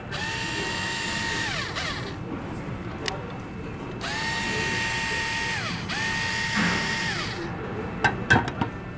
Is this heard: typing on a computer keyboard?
no